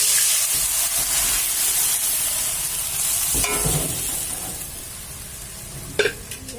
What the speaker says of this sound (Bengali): টমেটো আর গাজরটা আমার ভাজা হয়ে গেছে এখন ডালটা ঢেলে দিচ্ছে